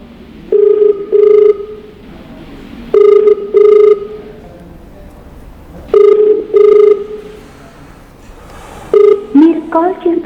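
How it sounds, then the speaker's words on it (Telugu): Outgoing phone call ringback tone repeats in evenly spaced double bursts, four times, loud and clear with quiet gaps between, followed at the end by the start of a recorded voice message. "రింగ్ అవుతుంది కాల్, లెట్స్ సీ."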